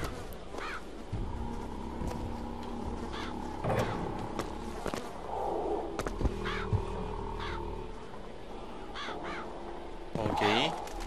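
Crows in BioShock Infinite caw repeatedly while feeding on rotten fruit, harsh calls scattered over a busy game soundscape with steady background noise and someone talking over it.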